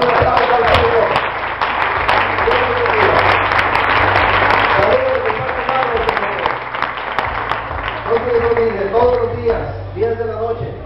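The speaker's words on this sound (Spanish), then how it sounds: "Dale un aplauso al Señor." A church congregation claps together for about ten seconds, dense steady applause with voices calling out and talking over it, fading a little near the end.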